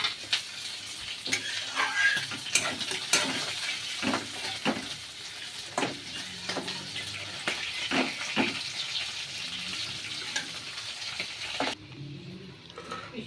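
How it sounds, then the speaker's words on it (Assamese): Water bubbling away in a pan of tomato gravy for a prawn curry gives a steady, soft sizzle with irregular pops and spatters, with no voices. "জলটো উতলি গৈছে"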